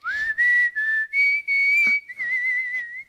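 A person whistles a short tune in several clear, shrill phrases with brief pauses between them, close and loud, with no one speaking.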